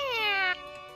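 A cat meows once in the video game My Time at Sandrock, a clear, drawn-out falling meow lasting about half a second, close and alone, followed by quiet background.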